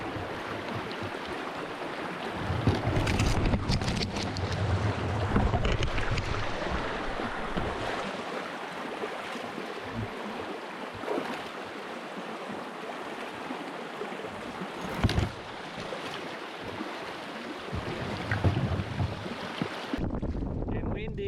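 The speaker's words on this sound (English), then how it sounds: "This wind just channels through these gorges." Strong wind channelling through the Murchison River gorges in Western Australia roars and gusts steadily for the whole stretch, buffeting the microphone with rumbling bursts and a broad rushing hiss.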